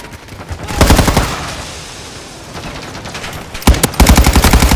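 Automatic gunfire rattles in Modern Warfare 2, loud rapid bursts near the start, a steadier noisy stretch through the middle, then heavy close bursts resuming toward the end.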